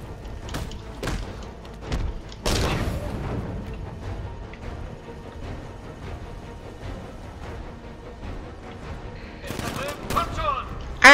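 Gunfire in Batman: Arkham Knight, several sharp loud shots and thuds scattered over the stretch with rumbling action in between, a voice speaking briefly.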